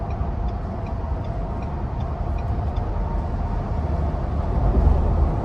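A 2023 Ford Bronco two-door hardtop with a 2.7 twin-turbo V6 cruises on the interstate, heard from inside the cabin as a steady, dense low road and engine drone that swells slightly near the end.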